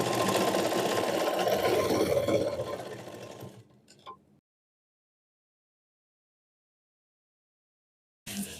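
A sewing machine stitches lehenga fabric along a marked line, running steadily and close for about three seconds before slowing to a stop, followed by a brief mechanical click and then silence.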